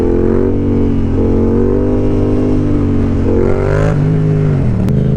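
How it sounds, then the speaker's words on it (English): A Yamaha FZ-07 motorcycle revs hard during a wheelie, its engine a loud, steady, close-up drone with the pitch dipping and rising near the end, and no talk. "First, I need to do a wheelie."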